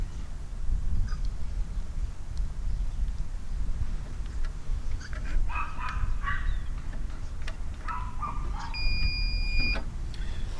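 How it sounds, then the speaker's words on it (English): Steady high electronic beep tones near the end from a device on low battery, over a noisy rumbling background with faint clicks and rustles. "Now that's just beeping because it's low power at the moment"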